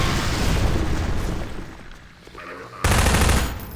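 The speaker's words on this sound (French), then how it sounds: "On dégage tout à la grenade." Grenade blasts in the video game Half-Life 2, loud booming explosions, one dying away and then a second sudden heavy burst, rumbling and close.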